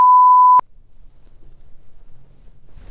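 A phone gives a single steady electronic beep, loud and close, about half a second long, followed by faint quiet background.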